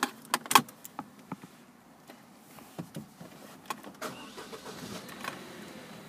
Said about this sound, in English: if we just get the car started up